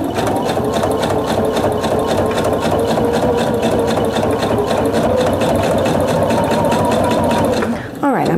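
A sewing machine stitches fabric along a serged edge, a loud, steady, rapid mechanical whir that runs unbroken for several seconds before stopping abruptly near the end.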